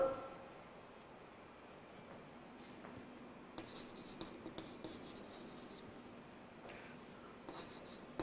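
Marker or chalk strokes on a board in a physics class, faint scratchy squeaks and taps coming in irregular short bursts over quiet room hiss, with no talking.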